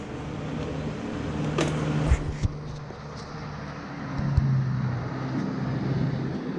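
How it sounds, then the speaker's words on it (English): Steady road traffic drones outside, a broad rumble with a few louder vehicles swelling past and brief clanks nearby, moderately loud and continuous with no talking. "Another day of traffic."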